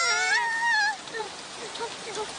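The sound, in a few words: rain falling in a cartoon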